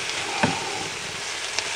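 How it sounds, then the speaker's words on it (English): Fresh tomatoes warming in a pan over a small wood fire give off a soft, steady sizzle with a couple of faint pops and ticks, close and without talk. "That's the tomatoes cooking for a couple of minutes."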